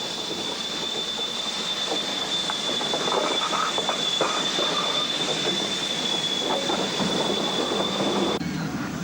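The Indus Express train rumbles steadily along the rails, with a sustained high wheel squeal ringing over the clatter throughout.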